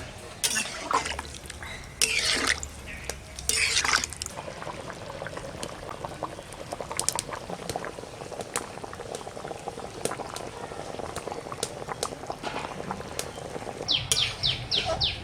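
A potato curry (aloo dum) bubbles and boils vigorously after water is poured in, with busy, uneven gurgling that stays close and loud throughout.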